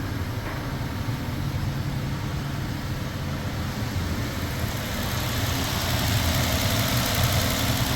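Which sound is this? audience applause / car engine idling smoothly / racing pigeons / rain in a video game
car engine idling smoothly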